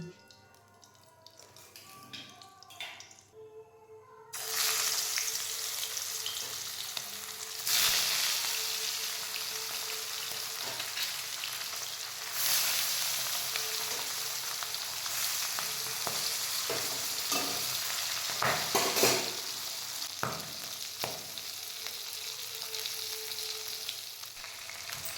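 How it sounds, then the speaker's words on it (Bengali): Singi fish frying in hot oil in a wok, a steady crackling sizzle that swells and flares in bursts with a few clinks of a utensil, following a quieter opening stretch. "তেলটা গরম হয়ে গেলে আমি এক এক করে মাছগুলো ভেজে নেব।"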